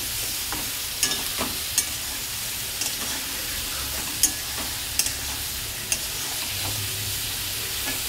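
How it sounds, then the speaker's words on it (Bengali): Spice masala with turmeric, grated ginger and tomato being sautéed in a pan: a steady close sizzle punctuated by sharp spatula clicks and scrapes against the pan at irregular intervals. "এবারে মশলাটাকে ভালো করে কষাবো"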